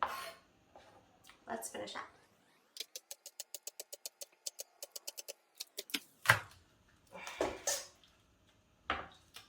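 Green onions with their tops left on are chopped with a knife on a cutting board in a quick, even run of about fifteen crisp chops, with a person talking before and after.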